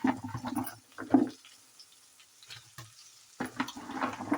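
Mango pickle frying in hot oil: a soft sizzle with stirring and scraping, quiet and close, pausing midway before the frying noise returns.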